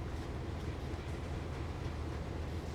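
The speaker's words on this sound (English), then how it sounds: "just like very slowly cruising through an industrial area at 15 miles per hour in a gigantic train" A gigantic freight train in Train Sim World 2020 cruising at 15 miles per hour through an industrial area, a steady low rolling rumble with faint rattling, uniform and unbroken.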